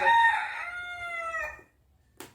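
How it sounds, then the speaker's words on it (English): A rooster crows once, a loud, close, drawn-out cock-a-doodle-doo lasting about a second and a half, followed by quiet and a brief faint sound at the end. "Chicken again."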